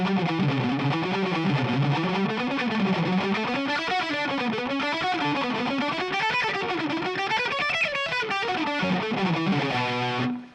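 Distorted electric guitar plays a fast palm-muted alternate-picking scale riff, notes climbing and falling in steady rapid runs, loud and continuous before ending on a held note.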